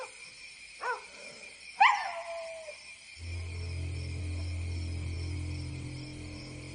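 A dog in a Telugu action film gives two sharp barks and a short whimpering yelp, close and clear, before a low steady rumble of background score takes over.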